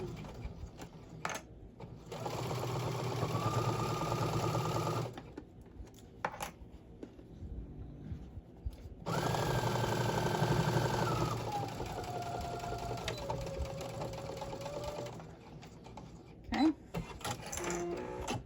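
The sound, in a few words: sewing machine sewing a tote bag lining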